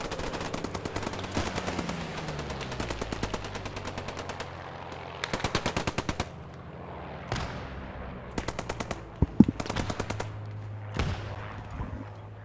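An MG-42 machine gun fires in the Post Scriptum World War II video game, loud rapid ripping bursts repeated in several volleys, mixed with other distant gunfire and battle noise.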